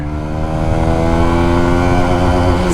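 A QJ Motor SRV160 motorcycle accelerates hard through first and second gear, its engine note rising loud and close in a continuous, strained drone with no talk over it.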